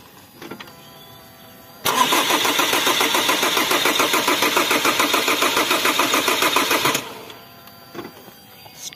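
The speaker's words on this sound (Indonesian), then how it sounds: "coba kita start engine" A Chevrolet Captiva diesel fitted with a new supply pump cranks for about five seconds: a loud, close, rhythmic pulsing starter churn that cuts off abruptly, leaving quiet workshop background.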